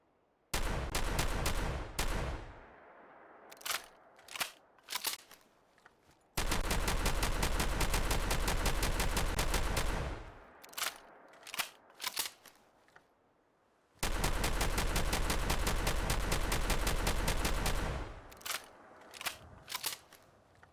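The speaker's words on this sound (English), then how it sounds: "Like all shotguns, it performs its absolute best when used in close quarters." Gunfire from the video game Fallout 4 comes in loud bursts: rapid repeated shots in long sustained strings of several seconds, separated by scattered single sharp blasts and brief pauses.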